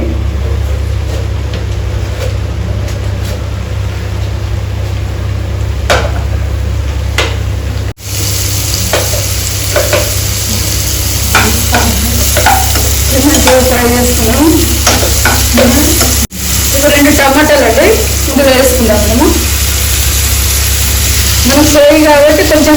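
Onions sizzle loudly in a hot pan for a ridge gourd curry, a close, continuous frying hiss with stirring scrapes and clatters that grow busier midway, broken by two short cuts.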